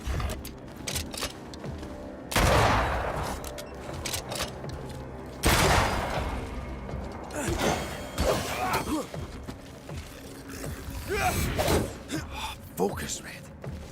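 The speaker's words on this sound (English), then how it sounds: "That corpse is gonna shoot." Gunfire from a corpse enemy in Banishers: Ghosts of New Eden, a few loud, sharp blasts standing out over game noise while a player talks at points.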